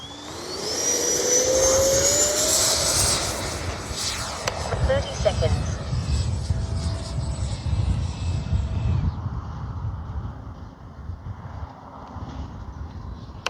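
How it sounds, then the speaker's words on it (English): A Freewing Mirage 2000 RC jet flies past with a loud, rising electric ducted-fan whine that swells and then fades into a steady rushing roar. "just literally just a huge rocket motor, powerful motor with a set of wings on it."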